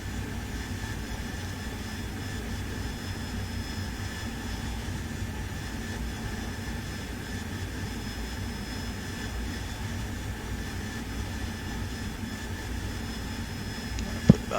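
A steady jet engine whine and rumble from an aircraft in the DCS flight simulator game, continuous and even at moderate level with a faint tonal hum and no talk.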